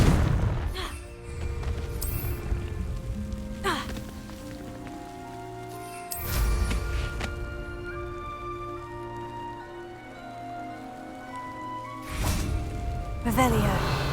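Confringo spell blasts in Hogwarts Legacy, with several sharp booming impacts spaced a few seconds apart over a steady, tonal ambient music bed with rain-like crackle.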